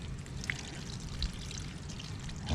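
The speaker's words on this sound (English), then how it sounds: "And we're going to rinse it off." Water pours and splashes steadily while rinsing a dirty K&N air filter during a recharging job, a continuous close spray with a few louder spatters.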